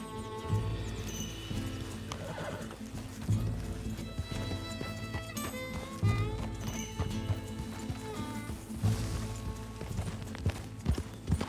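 Horse hooves clip-clopping in a steady, continuous trotting rhythm while riding in Red Dead Redemption 2, with occasional whinnies and a musical score running underneath throughout.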